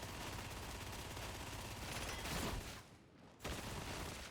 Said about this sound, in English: if needs be, you can turn your recon gun on them